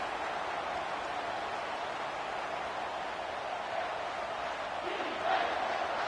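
A stadium crowd roars during a College Football 25 game between Oregon and Michigan on a third-down defensive stand, a dense, sustained wash of noise that rises slightly toward the end.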